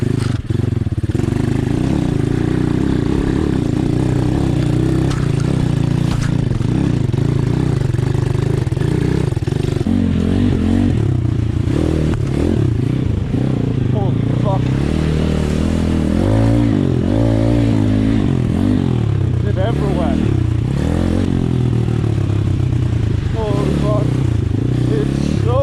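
An Apollo RFZ dirt bike fitted with big new tires rides a soft, wet trail, its engine revving and rising loudly up close, with clatter and someone talking over it.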